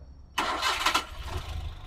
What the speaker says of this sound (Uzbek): Zavat qilib, ovozlarni ham eshittirib qo'yamiz.